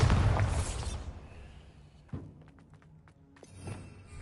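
A Bombarda spell goes off in a wizarding-world video game: a loud burst that fades within about a second, then a sharp thud, a few clattering knocks and a softer rumble after it.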